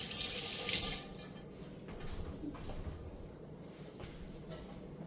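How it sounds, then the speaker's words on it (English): Hands washed under a running kitchen tap while cooking an omelette, a steady close splash of water that is loudest in the first second, then continues more softly with light rubbing until the end. "I'm just going to wash my hands quickly."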